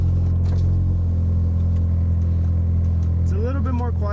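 An Acura RSX fitted with new Skunk2 Racing parts idles with a steady low rumble from inside the car, while someone talks over it throughout.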